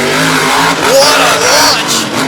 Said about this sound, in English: Corey Rummel in Avenger, who just blasts onto the track